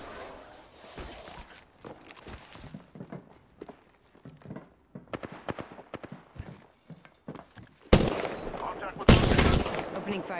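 Gunfire in Apex Legends starts as scattered clicks and footsteps, then loud close bursts of automatic shots near the end over game ambience.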